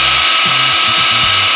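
A compact cordless rotary hammer runs steadily with a high, continuous whine, and its pitch and load shift through several short steps as it works, loud and close with no talk.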